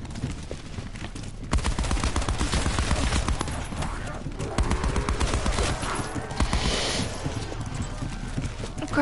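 A ray gun fires in a zombies video game, sounding as a dense, rapid stream of close, loud shots with a player talking excitedly over it.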